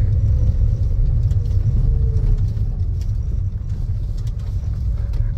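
A Daihatsu Karimun car with a 1000cc engine drives in second gear, heard from inside as a steady, loud, low engine rumble and road noise with no letup.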